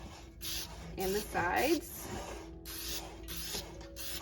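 Nonstick cooking spray hisses in short bursts as the inside of a springform pan is coated for a no-crack cheesecake, mixed in with someone talking over the spraying.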